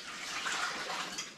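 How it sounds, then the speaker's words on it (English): Hot water poured out of quart canning jars into a sink, a short steady splashing gush heard close up, with no voices. "we'll take and dump the hot water out of our quart jars"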